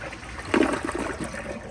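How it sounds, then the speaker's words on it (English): A 2019 AquaSource Henshaw toilet flushes with a short rush of water that swells and then settles into a steady, moderately loud wash, heard nearby with no talk. "here is a flush"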